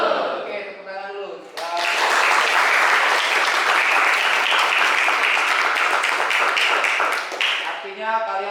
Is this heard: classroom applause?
yes